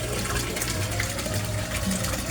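Water pours and splashes steadily from a koi pond filtration system fitted with glass and a UV light, a loud continuous close-up rush with no talk.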